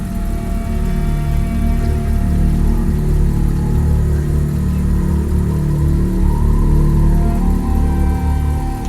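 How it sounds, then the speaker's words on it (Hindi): A parked car sits with its engine running and no driver, giving a steady, close mid-pitched idle hum that continues unbroken throughout. "इंजन में तो चालू है"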